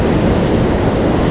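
Swollen Ganga in flood during torrential monsoon rain, a loud, dense, continuous roar of rushing water with no voices, unbroken and close.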